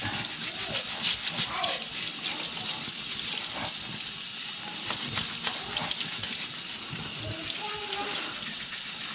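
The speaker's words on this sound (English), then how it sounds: "You can immediately tell that how much cleaner the crab is just by scrubbing it" A Dungeness crab scrubbed under running water, a continuous splashing wash with brushy scrubbing strokes throughout.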